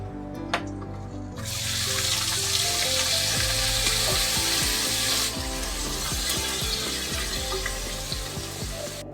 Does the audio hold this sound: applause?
no